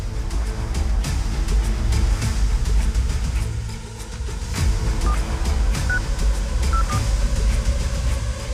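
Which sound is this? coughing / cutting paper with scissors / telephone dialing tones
telephone dialing tones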